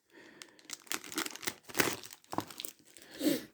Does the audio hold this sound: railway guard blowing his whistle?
no